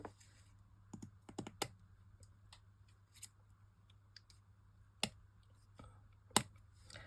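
Scissors trim bits off a glittered mixed-media card panel in a few sharp, close snips spaced irregularly, with small rustles of card between them over a low steady hum.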